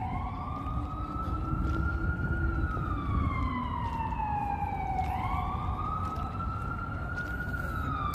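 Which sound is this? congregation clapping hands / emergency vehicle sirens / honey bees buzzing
emergency vehicle sirens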